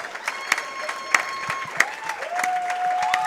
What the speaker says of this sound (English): We're clapping for everything.